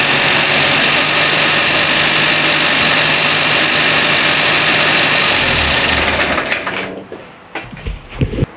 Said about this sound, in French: le moteur tourne, c'est bon, il est opérationnel